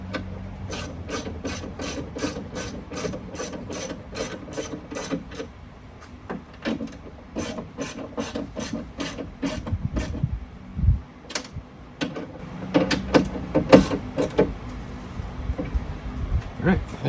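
A hand ratchet tightening a bolt inside a Dodge Durango door while fixing a fallen window: rapid, close, repeated clicking strokes in bursts, pausing, then more clicks with some rubbing and handling noises.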